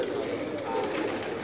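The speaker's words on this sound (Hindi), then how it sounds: "इस छत पे 800 कबूतर हैं।" About 800 pigeons on a rooftop cooing together in a dense, continuous murmur, fairly loud and close, with no talking.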